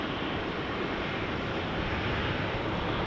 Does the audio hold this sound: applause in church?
no